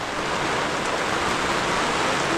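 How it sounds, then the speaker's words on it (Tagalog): Rain falling steadily outdoors during a string bean harvest, a loud dense hiss that stays constant and close throughout, with no voices. "Ulan pa."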